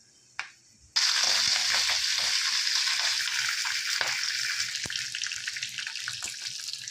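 Peanuts with green and dried red chillies hit hot oil after a brief near-silence, bursting into a loud, close, continuous frying sizzle that stays strong throughout.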